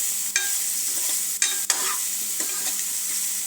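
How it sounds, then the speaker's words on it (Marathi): Paneer pieces fry in oil in a pan, giving a steady close sizzle broken by a few sharp scrapes and stirring taps. "अगोदर आपण थोडंसं तेल टाकून पनीर आपण थोडेसे लालसर भाजून घेऊया."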